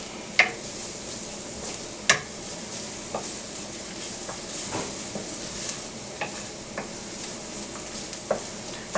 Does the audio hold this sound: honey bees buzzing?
no